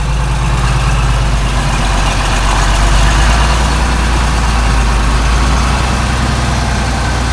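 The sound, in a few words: tractor engine running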